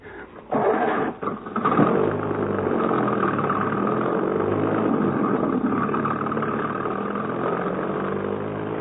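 A car engine driving away down a hill, a steady mid-low rumbling drone that starts after a few brief thumps and continues evenly with a muffled, old-recording tone.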